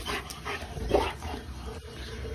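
A Labrador retriever lets out short barks and whimpers at close range over a noisy indoor background.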